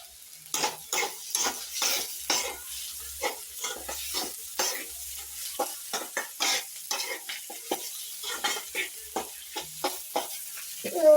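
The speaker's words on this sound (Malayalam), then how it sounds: "നന്നായിട്ട് വഴുന്ന് വരുന്നുണ്ട്" Soya chunks sautéing in a pan for a Kerala-style fry, with a steady low sizzle under repeated scrapes and stirs from a spoon, close and moderately loud, in an irregular rhythm throughout.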